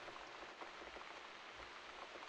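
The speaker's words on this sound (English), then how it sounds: "Looks like we've got the rain back." Steady rain falling in The Cat Lady video game, a continuous dense patter of drops on a surface with no voices, even and unbroken throughout.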